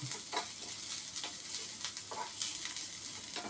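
Onions frying in a pan until they turn reddish, a steady close hiss of sizzling fat with faint stirring crackles running throughout, no voices.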